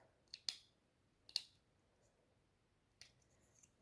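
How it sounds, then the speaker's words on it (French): Scissors trim the overhanging edges of a paper snowflake label in a few quiet, crisp snips: two close cuts early, then softer ones later, each separated by near silence. "petit coup de ciseau pour couper tout ça"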